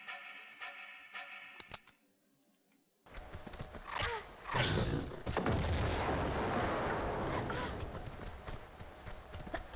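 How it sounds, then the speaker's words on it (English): In Tomb Raider II, a grenade launcher fires at a giant spider, with sharp booming blasts and explosion crackle after a brief quiet gap, followed by sustained rumbling noise. "I think we're gonna go for the grenade launcher"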